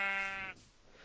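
A single sheep bleat in the Minecraft video game, a loud wavering cry lasting about half a second, then quiet.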